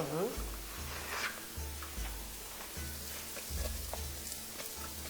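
Onion sizzles in a hot pan with rice toasting for risotto, a soft steady frying hiss with faint stirring scrapes and low rhythmic hum in the background.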